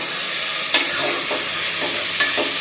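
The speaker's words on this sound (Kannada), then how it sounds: "ಟೊಮೊಟೊ ಹಾಕಿ ನೀಟಾಗಿ ಒಂದು ರೌಂಡ್ ಮಿಕ್ಸ್ ಮಾಡ್ಕೊಳ್ಬೇಕಾಗತ್ತೆ" Sliced tomato is stirred into frying fenugreek leaves in a pan: a close, continuous sizzle, broken by a few sharp scrapes of the spoon against the pan, no voices.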